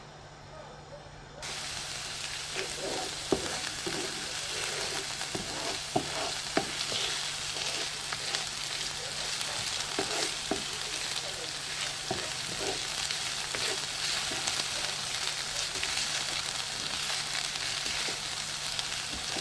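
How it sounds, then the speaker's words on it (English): Onions frying on low heat in a pan for Nigerian meat pie make a continuous steady sizzle with light crackles and occasional stirring taps, close and even throughout without speech. "I will just leave my onions until when the color became brown a little"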